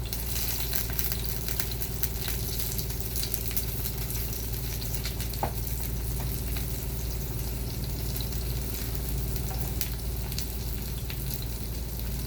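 Steady, dense sizzling of salmon patties frying in a pan, continuous crackle and spatter with no talking.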